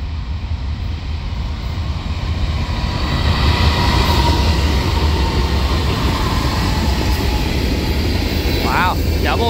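Two CSX Dash 8 diesel locomotives pass close by, a loud sustained rumble of engines and rolling wheels that builds and holds steady, with a short squealing tone near the end.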